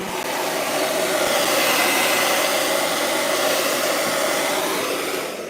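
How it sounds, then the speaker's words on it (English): Blow dryer drying hair indoors, a loud steady airy whoosh running continuously for several seconds at close range, then easing slightly at the end. "I gotta blow dry this down for a quick second"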